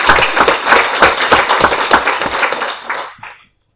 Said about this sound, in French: On peut l'applaudir, je pense vraiment.